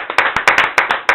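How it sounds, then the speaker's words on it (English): A small audience claps for a contestant named Princess at a voice-over contest, with about ten sharp, separate hand claps close by, some doubled, in a quick uneven rhythm. "So please, a round of applause for Princess."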